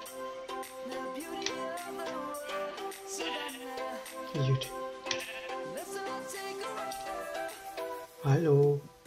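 Sheep in the video game Life in the Woods bleat twice, close and fairly loud, with wavering cries among game music and tick sounds, while someone speaks briefly.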